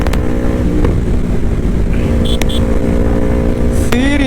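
A 300cc Yamaha YZF-R3 motorcycle engine hums steadily while riding, under loud wind rumble with a rising tone near the end, close and constant.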